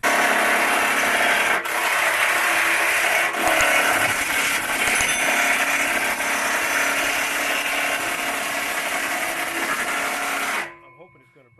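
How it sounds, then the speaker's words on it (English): A ratchet with a 15mm socket works loose an exhaust bolt and nut on a Jeep JKU, a continuous dense metallic grinding and clicking close up that runs for about ten seconds before cutting off abruptly. "It takes a 15mm socket to get the bolt and nut off."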